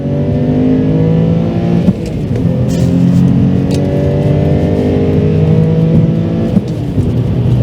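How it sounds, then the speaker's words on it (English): A high-mileage, New Zealand-new, facelift Subaru Legacy with a flat-six engine accelerates hard, its loud, smooth engine note climbing in pitch through a couple of gear changes, heard steadily from inside the car. "The flat 6 is potent, it makes a great noise."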